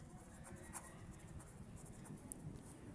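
Chalk or marker writes an equation on a board during a circuits lesson, producing faint, close scratchy strokes in short bursts over a quiet room hum.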